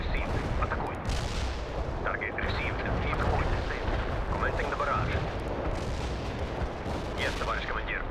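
An artillery barrage in the video game World in Conflict: continuous overlapping booms and crackling blasts rumble loudly throughout, with scattered sharper impacts and radio-style voice chatter mixed under the din.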